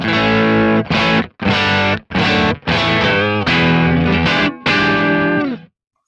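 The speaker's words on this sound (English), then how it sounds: "light crunch sound, not much of overdrive." An electric guitar runs through a Kemper Profiler amp profile set to a light crunch with only a little overdrive, playing sustained chords and phrases in several bursts separated by short gaps, loud and with no voices.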